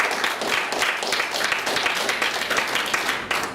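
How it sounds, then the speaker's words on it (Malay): Audience applause for visiting agency guests from Kelang at a talk, a dense, steady patter of many hands clapping throughout with no voices. "kita kena beri tepukan untuk agensi kita dari Kelang, Cik Syafiq dan Tuan Suraya"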